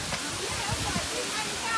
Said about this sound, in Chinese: 哇，这里离这个瀑布这么近呢啊，